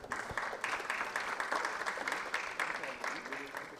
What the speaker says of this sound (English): Can we please applaud for the organizers for their great efforts to facilitate this event for